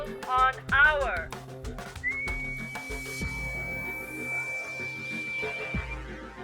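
Someone whistles into a radio microphone on 3105 kilocycles, holding one long, steady, clear tone for about four seconds after a brief voice and a few knocks at the start.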